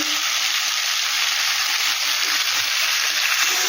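Warm water poured into a hot pan of Bengali fish curry, a loud, dense, continuous sizzle and hiss close by without pause.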